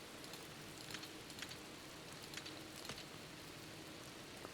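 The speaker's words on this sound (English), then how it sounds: "It's raining now" Steady game rain in Viking Frontiers, a soft even hiss of drops on surfaces with a few brighter patters now and then, fairly quiet and continuous with no voices.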